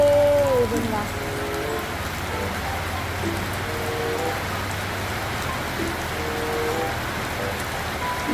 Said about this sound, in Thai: ฝนตกแล้วนะคะ ที่บ้านช้างฝนตกแล้ว